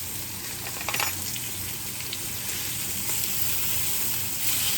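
Food sizzling and frying in a hot pan right after being flipped at home, a steady close crackle with brief spatters and scraping, no talking.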